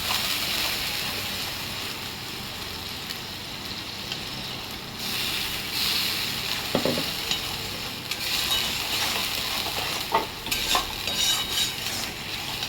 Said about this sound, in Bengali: এবার এটাকে ভালো করে কষবো।